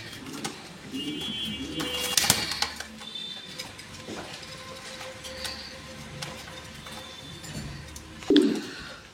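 Pigeons at a pigeon farm give soft low coos among light mechanical rattles and clatter, with one clearer coo rising near the end.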